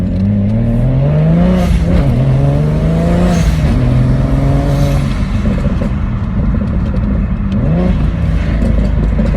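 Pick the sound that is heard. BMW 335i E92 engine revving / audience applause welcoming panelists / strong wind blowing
BMW 335i E92 engine revving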